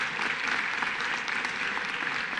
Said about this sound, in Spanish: Un aplauso, por favor, para la Fundación FUDELA.